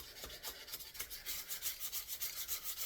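Sandpaper rubbed over a wooden gunstock during refinishing, an even back-and-forth rasping in a steady rhythm of quick strokes, close but fairly soft, with no voices.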